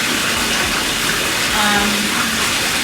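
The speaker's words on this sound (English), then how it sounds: "Filling up the tub, get some space, maybe I'll want to go in there." A bathtub fills from the tap in a home during labor, a steady gushing pour of water running into the tub under faint background sounds.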